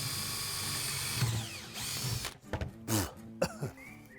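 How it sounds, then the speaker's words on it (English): A blunt drill fitted with a wood bit bores into wood, first a steady whining motor drone, then several short stuttering bursts as the bit bites and slows, fairly close and alone without speech. "That's a bluntest drill in the world."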